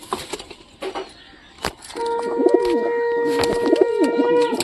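Deshi and satin pigeons coo in steady, rolling calls close by, building from about two seconds in and continuing to the end, with a few sharp knocks and rustles early on.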